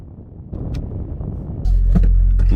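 A car backs slowly into a parking bay between other cars, its engine a steady low hum that grows heavier partway through, with a few faint clicks and knocks over the drone.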